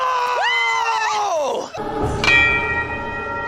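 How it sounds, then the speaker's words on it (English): A cursed bell rings at midnight in a horror movie. A loud bell strike decays as a sustained ringing tone, then a second strike rings out brightly. It is heard alone, without talk. "Right at midnight, Holly rings the cursed bell, not just once, but 3 times"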